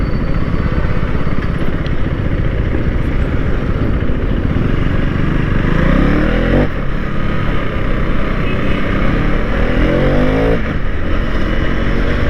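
A KTM Duke 390 motorcycle engine runs loud and close, a steady continuous exhaust drone with no pauses or voices.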